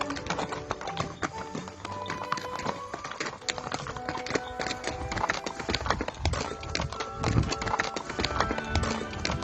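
Hooves of a horse-drawn carriage clip-clop in a quick, steady rhythm of sharp taps, close and continuous throughout, with no talking.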